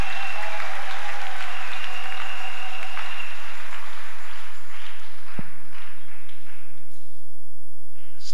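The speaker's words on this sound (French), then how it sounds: "Acclamez pour mama Alphonsine." Church congregation applauding for a woman named Mama Alphonsine, a broad wash of clapping that fills the room at first and then fades away toward the end.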